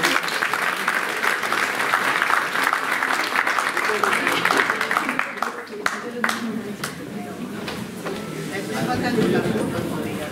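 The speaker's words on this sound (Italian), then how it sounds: "Un applauso." Applause from an audience at a 2024 awards ceremony for student volunteers and associations, a steady wash of clapping that thins out partway through, with crowd chatter and voices mixed in.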